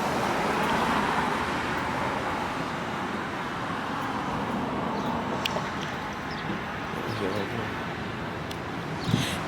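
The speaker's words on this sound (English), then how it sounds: "Probably can't hear me because of the bus" A bus rolling past on a roadway, a broad loud engine and tyre roar that is strongest at the start and slowly fades, with a voice talking underneath and faint bird chirps.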